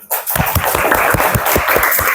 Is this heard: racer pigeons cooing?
no